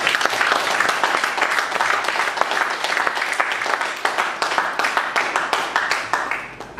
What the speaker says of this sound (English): A big round of applause for Jacob.